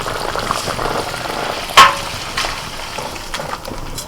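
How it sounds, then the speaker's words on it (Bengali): Mango chutney bubbles in a pan, a steady soft simmering hiss with a brief louder clink or splash near the middle, no voices over it. "আমের চাটনিটা ফুটছে চিনি দিচ্ছি"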